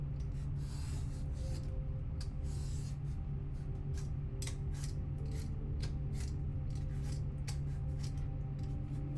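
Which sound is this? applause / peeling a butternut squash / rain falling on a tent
peeling a butternut squash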